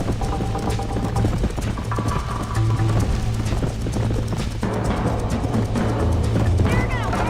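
Hooves clip-clop in a rapid galloping rhythm as horses race in the video game Red Dead Redemption, dense and steady throughout over a low engine-like hum, with no talk.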